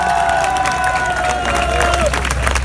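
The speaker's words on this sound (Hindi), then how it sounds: "उनके लिए जोरदार तालियों से स्वागत करें आप" Loud, steady applause from an audience at a spoken gathering, dense clapping filling the whole stretch with a faint tonal hum running beneath it.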